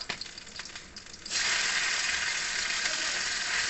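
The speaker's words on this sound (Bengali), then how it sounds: "এইবার এখন পুঁটুর মাছটা ভাজবো" Small puti fish hit hot oil in a wok and sizzle loudly and steadily after a few light clicks and scrapes, the frying hiss holding close and continuous to the end.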